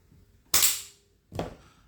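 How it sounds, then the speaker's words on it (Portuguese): A pistol's firing pin snaps free from a single blow during a drop test: two sharp, loud metallic impacts about a second apart, each with a short decaying tail, in a quiet setting. "Apenas uma pancada houve a liberação do percussor."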